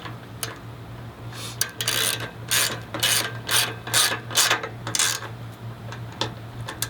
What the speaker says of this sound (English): just crank it down. This is a 7/16 driver here.